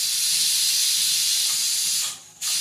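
A domestic pressure cooker releases steam in a loud, steady hiss that fills the space, then drops away for a moment near the end before surging back at full force.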